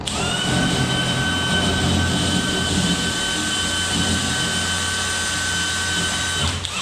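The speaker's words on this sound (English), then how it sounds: "Now it's just a matter of drilling through the door." A power drill bores through a door while fitting a Pro Lock IN20 lock, whining at a loud, steady pitch close by with a constant grinding hum for several seconds.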